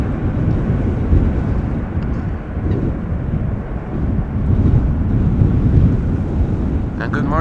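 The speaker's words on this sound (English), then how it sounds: "As you can hear, it is quite windy today." Strong gusty wind roaring and buffeting across the open ground at Schiphol Airport, a loud continuous rumble that swells and eases, with wind noise hitting the microphone throughout.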